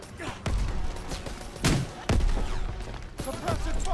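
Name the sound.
gunfire from the video game Call of Duty: WWII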